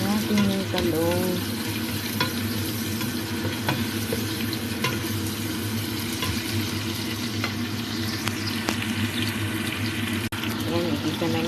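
Eggplant frying in a pan for garlic eggplant, a steady close sizzle with scraping and stirring clicks throughout and a brief splash of water near the start.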